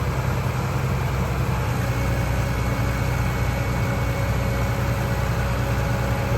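A ten-wheel truck engine runs loud and close at a drainage pipe-laying site, giving a steady, unbroken low rumble with no change in pitch and no voices.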